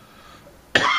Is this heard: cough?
yes